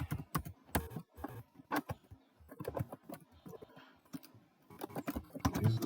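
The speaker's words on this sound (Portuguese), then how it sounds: "vou digitar aqui para descrever" Rapid keystrokes on a computer keyboard as someone types notes into OneNote for a physics lesson on thermometry, clicking in uneven bursts with short pauses, close and fairly quiet.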